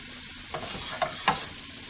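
Cilantro lime shrimp sauté in a pan under a soft background sizzle, with three quick scraping stir strokes close by at a moderate level.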